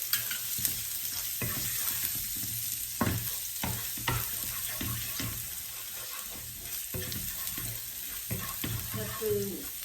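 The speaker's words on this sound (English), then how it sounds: "Let's make the garlic turn brown" Chopped garlic fries in sesame oil with a soft close sizzle, broken by repeated scraping and clinking as it is stirred in the pan, and a faint voice now and then in the background.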